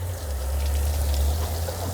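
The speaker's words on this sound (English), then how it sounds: "It's leaking like crazy, and it's underneath the floor of the bathroom and above this holding tank." Water leaks steadily beneath the bathroom floor of a 1978 Bluebird Wanderlodge motorhome, above the holding tank, with city water pressure connected. It comes through as a continuous trickling, pouring rush over a low, constant hum.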